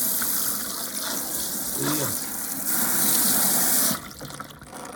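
Hot water gushing steadily from a tap during a home renovation, close and fairly loud, with a brief spoken word in the middle and the flow cutting off near the end.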